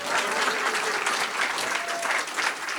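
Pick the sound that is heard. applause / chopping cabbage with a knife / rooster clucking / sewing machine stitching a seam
applause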